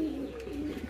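Pigeons cooing steadily at a pigeon farm, a low throaty burbling from several birds close by that runs through the whole second.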